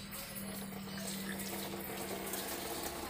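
Water spraying steadily onto the closed door window of a Suzuki Jimny Katana during a leak test, a continuous hiss and splash without break and no voices.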